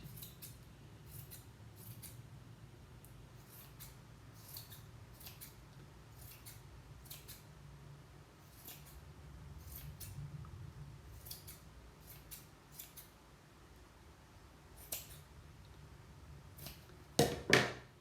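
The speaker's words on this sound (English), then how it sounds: "I'm holding on to the long pieces of yarn, and I'm going to trim it up, make it a little bit more round" Scissors snip around a yarn pom-pom, trimming long ends to round it out: a steady series of quiet, close metallic cuts at an irregular pace, ending in a louder rustle and clatter near the end.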